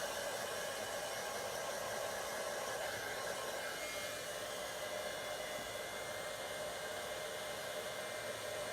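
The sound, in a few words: heat tool heat setting embossing powder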